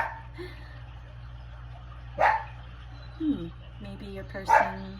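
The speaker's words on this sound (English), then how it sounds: "something about the dog barking right when I said that." A dog barks in three sharp, separate bursts over a steady low hum while someone talks nearby.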